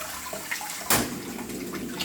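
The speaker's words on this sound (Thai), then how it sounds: "ล้างมือด้วยนะครับ" Hands being washed under a running tap, a steady close splash and gush of water that briefly surges louder partway through, with no talk over it.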